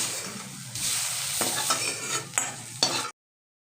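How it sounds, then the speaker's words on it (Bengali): Cauliflower stirred and fried in mustard oil in a kadai, a steady loud sizzle broken by several sharp spatula scrapes and clinks against the pan before the sound cuts off abruptly into silence. "কন্টিনিউ 2 থেকে 3 মিনিট নাড়াচাড়া করে ফুলকপিটাকে আমি ভেজে নিয়েছি।"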